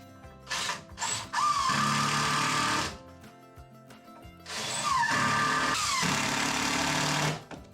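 A power drill drives screws into a wooden leg in two loud whirring bursts, each revving up and winding down, separated by a short pause with faint workshop noise.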